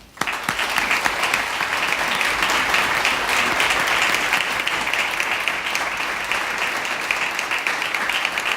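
Sustained, loud audience applause fills a concert hall at a university homecoming band concert, welcoming a guest to the microphone, steady and dense throughout with no break.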